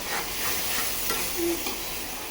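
Young, tender home-grown bottle gourd cooking in a pan, a soft steady sizzle and frying hiss with light stirring scrapes, close and moderately quiet throughout.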